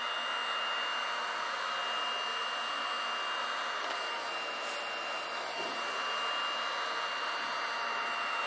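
A heat gun blows a steady, even rush of hot air onto headlight overlay film on a 2022+ Subaru WRX, aimed mainly at the bottom edge, with a continuous whooshing drone close by and no voices.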